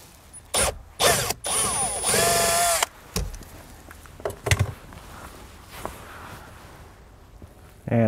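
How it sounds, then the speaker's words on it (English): A power drill with a step bit enlarges a hole in a plastic panel so a nut can pass through, during a Redarc Tow-Pro Liberty brake controller install on a 2022 Kia Telluride: several short whirring bursts with one longer run, close by. "So we're gonna step it up one more size, drill this out, and make sure that this nut passes through"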